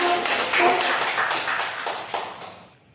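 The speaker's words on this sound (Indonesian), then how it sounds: "Kita berikan aplaus." Applause in a peer-teaching classroom session, a short round of quick rhythmic clapping from a small group that fades out after a few seconds.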